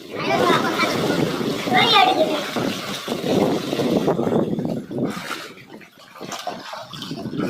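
Children swim and splash in water outdoors, with continuous rough splashing and churning alongside loud shouting voices and wind buffeting the microphone.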